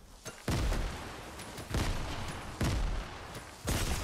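Gunfire in Fortnite: four loud, heavy shots come at roughly one-second intervals, each with a booming low-end tail, over quiet game ambience.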